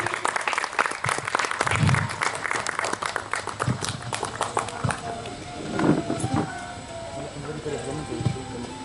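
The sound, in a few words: audience applause welcoming chief guest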